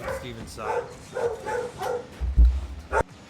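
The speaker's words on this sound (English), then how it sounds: "And that was my dog, everybody." A dog barks a few times close by in a house while a commentator talks over a Rocket League 3v3 school esports match; the barks are short and mixed in with the ongoing speech.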